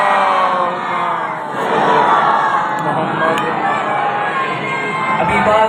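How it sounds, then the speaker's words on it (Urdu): A large crowd at a religious gathering loudly chants salawat in unison, a dense wall of many voices sustained throughout with swelling surges. "مل کے بلند تر صلوات"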